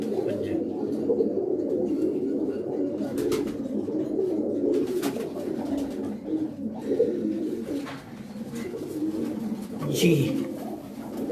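Long-feathered pigeons on a rooftop give repeated low, throaty coos in a steady rhythm, close and clear, with a man's brief remarks and some background noise around them.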